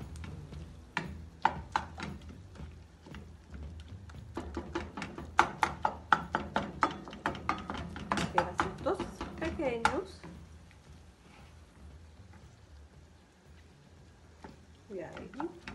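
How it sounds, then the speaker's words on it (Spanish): A spatula scrapes and taps against a pan as bits of meat are stirred and broken up while cooking, a busy run of clicks and scrapes that fades to quiet, with someone talking over it. "Le voy a dar una movidita, voy a romperle el pedacito para que no nos queden pedazos grandes."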